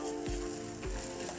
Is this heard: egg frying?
yes